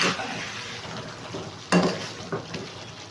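Chicken curry cooking in a pan gives a close, steady sizzle broken by a sharp metal clink and spoon scrapes as it is stirred, with no speech.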